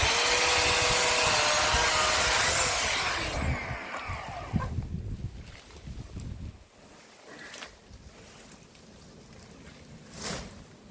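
A chainsaw engine whines loudly and steadily for a few seconds while cutting down a cordyline australis tree, then winds down and cuts out, leaving quiet with a few faint knocks.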